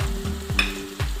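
Food fries in a pan for a Moroccan-style potato dish, with a constant close sizzle broken by a few soft stirring scrapes.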